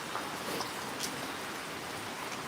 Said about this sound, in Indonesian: gerimis-gerimis.